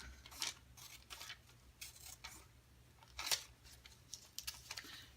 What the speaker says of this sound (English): So I will just cut that one out.